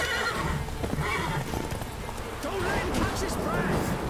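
In The Witcher 3 video game, a horse whinnies and its hooves clop amid loud combat noise, with a voice talking over it throughout.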